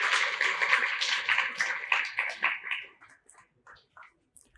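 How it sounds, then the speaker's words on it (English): Conference audience claps for two speakers after their talk, a few seconds of moderate applause that thins out into scattered individual claps and fades to near silence. "let's give them a big applause for their outstanding presentations"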